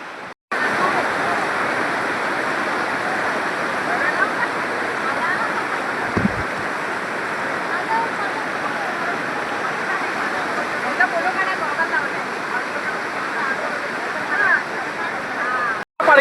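The monsoon-fed Bhagirathi waterfall at Vangani pours in a steady, dense roar that holds unbroken for many seconds after a brief gap at the start.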